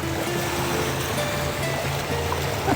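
Waves slap and splash against a boat on windy water near Queenstown, a steady close wash of water and wind noise throughout with no voices.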